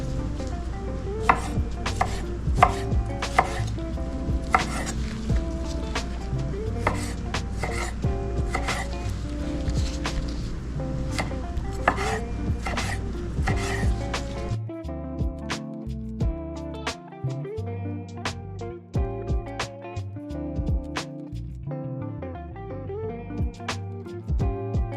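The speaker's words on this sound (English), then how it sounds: "All right, got my tomatoes diced." A knife dices tomatoes on a cutting board in rapid, steady chopping taps, close and clear, with the rhythm growing slightly sparser and more tonal toward the end.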